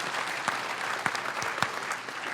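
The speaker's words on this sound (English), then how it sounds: "So a round of applause for that." A commencement audience applauds at a Landmark College graduation ceremony, a steady wash of clapping from a large crowd with a few sharper claps standing out.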